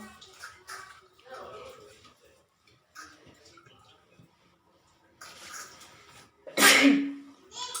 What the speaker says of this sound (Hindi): पता नहीं सुबह सुबह छींकें आ रही हैं, शायद ठंड की वजह से।